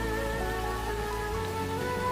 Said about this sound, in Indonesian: Rintik air mulai menetes.